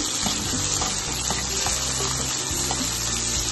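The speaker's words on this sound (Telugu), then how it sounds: "తరిగిన ఉల్లిపాయలు ఇచ్చి వేగనివ్వాలి" Chopped onions frying in oil with cinnamon, cardamom and cloves in a kadai, a loud dense sizzle with stirring clatter throughout, no talk.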